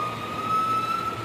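Common hawk-cuckoo (papiha) call slowed down so it resembles an emergency siren: a single steady, loud tone holding for over a second against a constant background hum.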